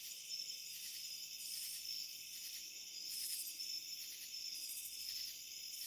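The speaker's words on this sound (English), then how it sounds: "So even though we're hearing you can hear crickets." Crickets chirp steadily at night along a quiet trail, a continuous high pulsing trill with regular swells, fairly faint and heard alone without talk.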